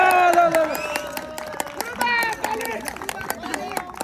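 Clapping from a crowd at a veterans' Christmas football cup trophy ceremony, scattered handclaps under a loud voice talking throughout, the applause thin and uneven rather than a full ovation.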